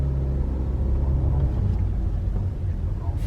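Steady low rumble of road traffic heard from inside a moving car on a busy morning drive toward a racetrack, a continuous engine-and-road drone that stays loud throughout.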